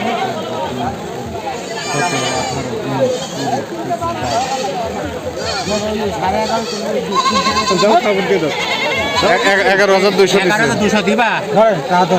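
Goats bleat repeatedly at a busy village livestock market, wavering calls rising over constant loud crowd chatter and people talking nearby.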